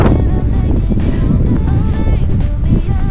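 Strong, cold wind buffets the microphone at a mountain summit in a steady, loud roar, with low rumbling gusts throughout and no clear voices.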